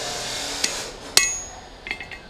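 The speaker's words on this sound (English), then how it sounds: "Let's put a little taper on this." Hammer blows tapering a hot-cut chisel at a blacksmith's forge: two sharp ringing strikes of hammer on hot steel, followed by a few lighter taps near the end, close up with no talk.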